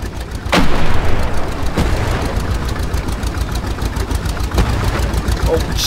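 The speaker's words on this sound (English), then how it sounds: "It's a tank!" Tank engine in the Hell Let Loose video game rumbling loud and steady, with heavy low growl and repeated sharp gunfire and booms cutting through the battle din.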